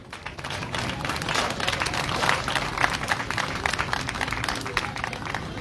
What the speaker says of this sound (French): Acclamons-leur pour les recevoir.